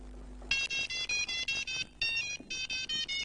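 Telephone ringing as a call is placed during a stage revue, a bright electronic ringtone in rapid repeated bursts that starts suddenly and continues steadily, fairly faint with no talk.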